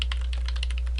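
Fingers tapping out text on a computer keyboard, a quick, close series of light clicking keystrokes over a low steady hum, with no voices.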